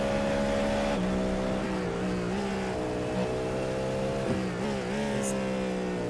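Race cars, including a Porsche, battle at Suzuka in a sim racing game, with a steady loud engine drone and shifting revs throughout, one car closely trailing another.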